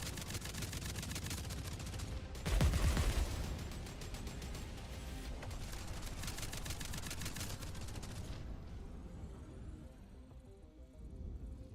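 Repeated gunfire from snipers in the sci-fi video game Jump Space, with a loud heavy burst of shots early on, then steady crackling fire continuing at moderate level before thinning out toward the end.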